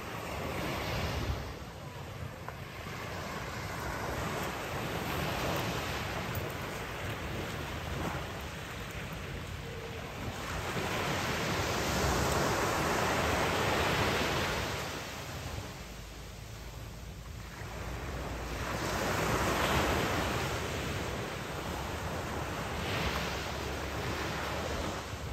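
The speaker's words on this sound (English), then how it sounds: "watching the sea at Bob Marley's house is so therapeutic and relaxing" Sea waves at Bob Marley's house, a steady broadband wash of surf that swells and recedes in slow surges every few seconds, continuous and fairly close, with no voices.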